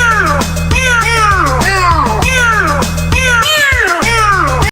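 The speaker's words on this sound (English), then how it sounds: "That deeper, layered meow sound goes hard." Loud repeated meows with a deep, layered, synthetic tone from a Sprunki character, cycling rhythmically over a steady musical backing.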